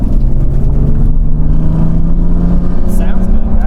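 A Nissan 350Z engine revs loud and close with a raspy, rumbling exhaust tone that rises and holds, with a few pops near the end and people talking over it.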